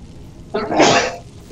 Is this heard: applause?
no